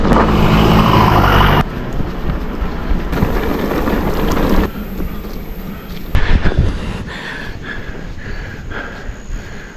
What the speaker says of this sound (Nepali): गाडी आउँदैछ